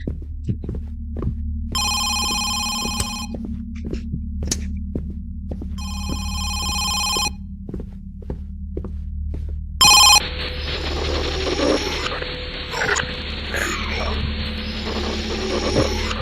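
Telephone ringing in the horror game Home Sweet Home: bursts of an old bell ring repeating in a slow pattern over a steady, throbbing heartbeat-like drone, followed by a burst of noisy static.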